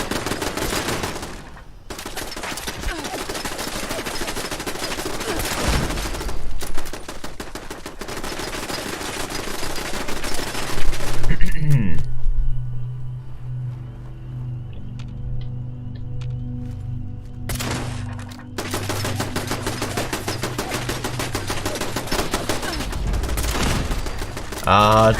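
Automated turret fire and weapon bursts in a Fallout 76 firefight, long loud stretches of rapid continuous shooting, a quieter gap with a falling whine and low hum midway, then heavy firing again, with a player talking at times.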